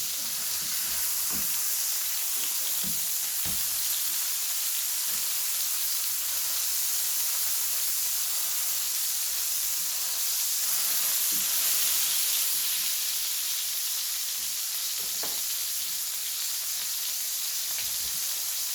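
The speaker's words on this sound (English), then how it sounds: "while our hamburger is cooking up" A hamburger patty fries in a pan for a Hawaiian loco moco, giving a steady close sizzle with faint crackles and pops throughout, no voices over it.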